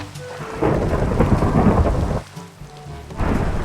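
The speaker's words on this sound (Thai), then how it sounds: "นี่แหละบรรยากาศฝนตกแบบทันเดอร์สตอมแบบนี้" Rain pours steadily during a Minecraft thunderstorm while deep thunder rumbles loudly, briefly dips, then swells again, with no talking.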